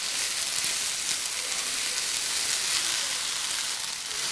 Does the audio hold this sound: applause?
no